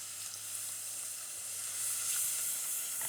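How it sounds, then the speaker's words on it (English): Milk poured and whisked into a hot roux in a pan, a soft steady sizzling hiss that holds faint and even for a few seconds with no talk. "I'm going to take out our wooden spoon and transfer over to a whisk, and we'll slowly incorporate our milk."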